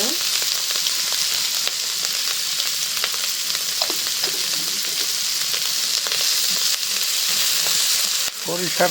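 Shrimp bharta fries in hot oil with a steady, dense sizzle throughout, occasional stirring scrapes rising above it at close range.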